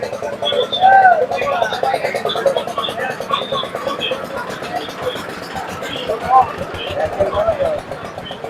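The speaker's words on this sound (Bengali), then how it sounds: "কবুতরের একটি বাজার রয়েছে, আমরা কবুতর দেখতে পাচ্ছি" At a busy livestock market, pigeons coo repeatedly amid crowd babble, while someone speaks prominently over the birds throughout.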